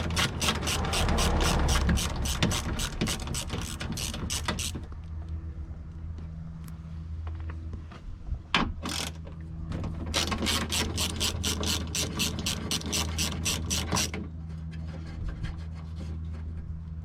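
A hand ratchet loosens a bolt on a 1989 Toyota Corolla door, its rapid pawl clicks running in two long close bursts separated by a quiet pause with faint handling sounds.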